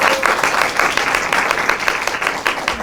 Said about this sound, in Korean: 다시 한번 큰 박수 좀 부탁드릴게요.